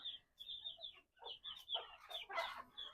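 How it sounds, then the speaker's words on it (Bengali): Hens on a small poultry farm cluck close by in a quick, overlapping run of short calls. The calls rise into a busier burst of several birds near the end. "এ হচ্ছে আমার মুরগির খামার বেশ মুরগিগুলো ভালো আছে"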